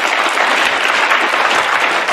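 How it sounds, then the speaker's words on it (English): Steady, hearty applause fills a snooker arena during a professional match, a dense continuous patter of many hands that stays loud and even from start to finish without any voices over it. "Well deserved round of applause there."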